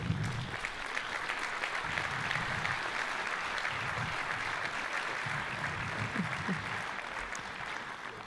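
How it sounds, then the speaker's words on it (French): An audience at a regional associations conference in Brittany applauds two presidents coming on stage, a dense, sustained wash of clapping from a large crowd that holds steady throughout at moderate distance. "que vous pouvez applaudir pour commencer."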